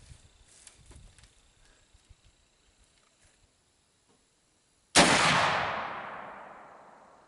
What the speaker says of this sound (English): We're now ready to shoot with our Thompson center bullet, which is a 250 grain projectile.